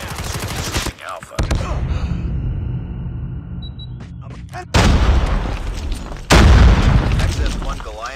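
Gunfire during a ranked multiplayer match in Call of Duty Mobile: loud, dense bursts of shots and booms in several blocks, with game voice callouts over the action.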